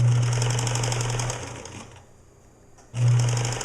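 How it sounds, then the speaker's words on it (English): A sewing machine stitches lace around the edges of a fabric pouch: a loud, close, rapid mechanical whir stops for about a second, then starts again. "what I'm doing now is I'm going to sew lace all the way around the outer edges of the pouches"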